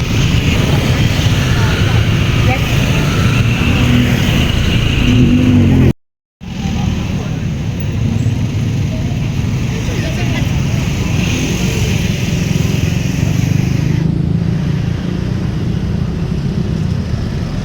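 Evening rush-hour traffic crawls across the Phra Phuttha Yodfa bridge in Bangkok, a dense steady roar of engines close by, briefly cut to silence once, then resuming, with a voice talking over part of it.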